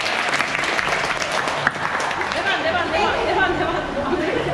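Applause from a small group after a magic trick performed after swim practice, steady close clapping mixed with chatter and voices throughout.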